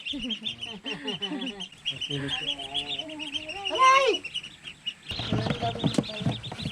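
Newly hatched ducklings give a run of high, rapid peeps and chirps close by, with a burst of louder calls partway through and busier chirping toward the end.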